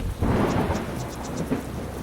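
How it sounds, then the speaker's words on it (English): Storm sound effect with rain beginning to fall, a dense hiss of rainfall under low rumbling thunder that swells and recurs, steady and fairly loud with no voices. "just as the first drops of rain began to fall, something happened"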